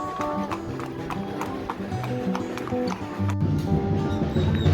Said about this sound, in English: supposedly there are Colombian horses coming through.